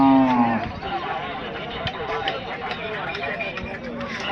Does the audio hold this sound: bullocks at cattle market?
yes